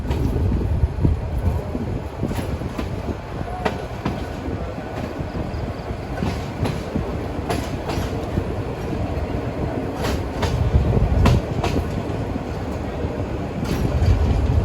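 Meghna Express rolling out of Chandpur Court railway station: a continuous low rumble with repeated clickety-clack wheel beats and some wind buffeting, steady and close throughout.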